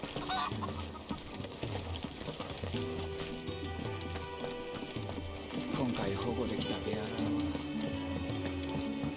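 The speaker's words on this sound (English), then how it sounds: "Chicken!" Chickens cluck in Final Fantasy XVI, scattered short calls mixed into a busy layer of game music and ambience while someone talks over them.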